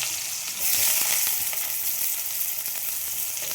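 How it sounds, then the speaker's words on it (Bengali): Potato pieces fry in hot oil over tempered spices for a vegetarian banana-flower dish, making a continuous, fairly loud sizzle and hiss that swells slightly early on and then holds steady. "আলুটা ভেজে নেব ভালো করে।"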